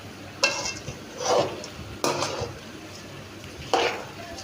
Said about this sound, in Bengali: চাল ডাল মাংসগুলো একসাথে ভেজে নিয়ে তারপরে